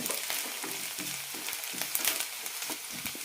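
Sliced onions softening and starting to brown in a pan for peanut curry, a soft, close frying sizzle broken by repeated light stirring clicks and scrapes.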